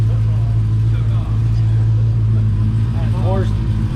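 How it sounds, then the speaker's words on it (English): A Dodge Demon's engine drones steadily from inside the car, a deep continuous hum with a short dip, while voices talk faintly over it. "It downshifted to 3rd, and then at the top it upshifted."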